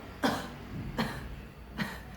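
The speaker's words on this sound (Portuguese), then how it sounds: "você vai abraçar o travesseiro e fazer o movimento para tossir assim, olha" Three separate coughs about three-quarters of a second apart, close and moderately loud, from a person hugging a pillow while recovering from abdominoplasty, with no talk between them.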